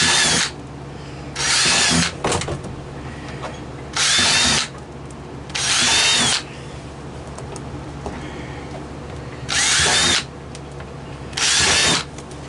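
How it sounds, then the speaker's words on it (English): A power drill whirs in six short bursts of about a second each, drilling air holes along the top of a worm farm bin, separated by pauses with faint handling noise, loud and close. "I'm going to drill holes along the top"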